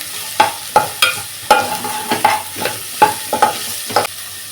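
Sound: vegetables sautéing in a pan: carrot, beans, ginger-garlic paste

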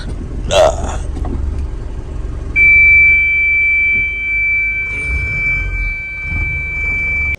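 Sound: truck reversing to the unloading point

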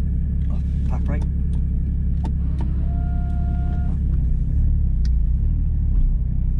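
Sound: Porsche GT4 race car setting off and driving

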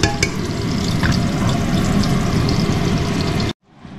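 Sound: khichuri cooking in homemade ghee

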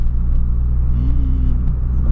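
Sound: Ford Ka engine revving as accelerator is pressed

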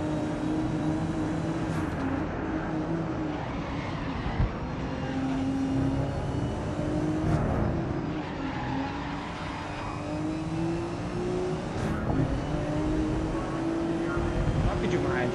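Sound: Nissan Skyline GT-R R32 racing lap, Red Bull Ring, Grid Legends video game

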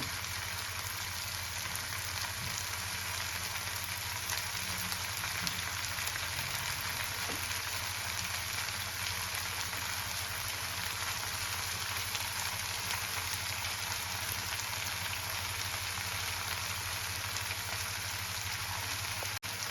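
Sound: boiled noodles added to sizzling pan for egg prawn chowmein

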